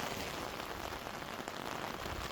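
Heavy rain pours steadily onto surfaces and umbrellas in Mariazell, Austria, a dense, even hiss close by with no talking.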